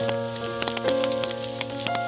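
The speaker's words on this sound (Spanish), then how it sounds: "comienza a llover torrencialmente" Heavy torrential rain pours down at a cemetery, a steady dense hiss with scattered drop hits, joined by sustained tonal hum throughout.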